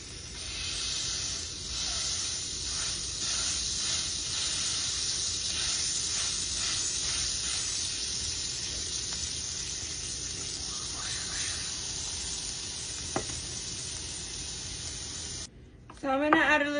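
A smashed taco sizzles loudly after it is dropped into a hot pan. The steady hiss carries on for many seconds, then cuts out near the end and is followed by a short clatter.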